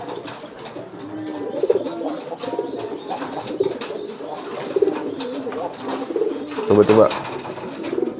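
A pair of courting pigeons cooing repeatedly up close in a coop, rolling calls continuing throughout while a person speaks briefly nearby.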